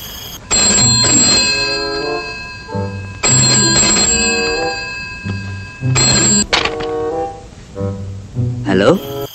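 A telephone rings in repeated bursts, each a sustained tonal ring with gaps between, loud and close; a voice cuts in near the end as the call is picked up.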